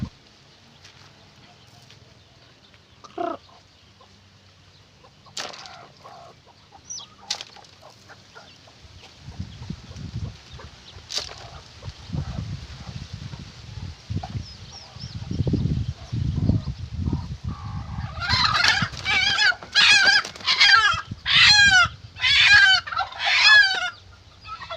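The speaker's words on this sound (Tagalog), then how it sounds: "nahuli na natin yung ating alagang manok. So nag-ingay." A pet hen squawks loudly while being caught, in a rising run of rapid, urgent clucks and cackles near the end, after quieter rustling and scuffling as she is chased up close.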